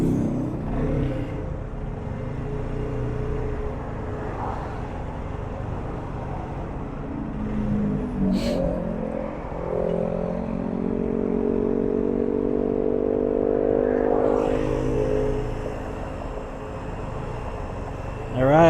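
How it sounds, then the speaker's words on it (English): A 12 volt compressor inflates a motorcycle tire beside a California freeway, its buzzing drone steadying and rising midway while traffic rumbles past. "Alright, compressor is on."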